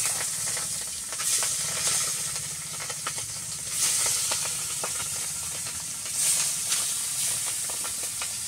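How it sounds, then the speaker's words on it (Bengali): Prawns fry lightly in a pan, giving a loud, steady, close sizzle and hiss that swells in slight pulses throughout, with no voices. "চিংড়ি মাছগুলোকে ভেজে নিচ্ছি, হালকা ভাজবো, বেশি আমি ভাজবো না।"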